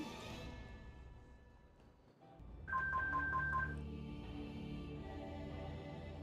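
A telephone-style call in The Binding of Isaac video game sounds as a short burst of bright, evenly spaced electronic beeps over steady game background sound.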